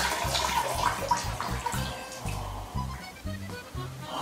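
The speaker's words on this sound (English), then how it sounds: "Oh man, I really have to pee." Liquid streaming steadily into a toilet bowl as someone urinates, a continuous close splashing trickle with no talk over it.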